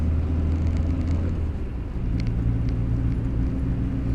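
Morris Minor engine running with a slightly rattly timing chain, a steady loud close idle hum with constant low rumble and a faint mechanical clatter throughout, no talk.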